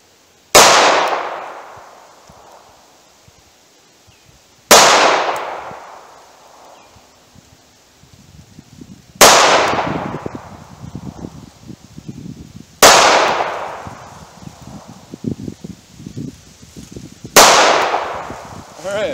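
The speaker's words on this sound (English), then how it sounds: "So I'm going to hit a target at 7 yards and try to group them and just see what I can do." A snub-nosed revolver fires wadcutter rounds at a target seven yards away outdoors, five loud, sharp shots spaced about four seconds apart, each ringing out into a fading echo with faint rustling between.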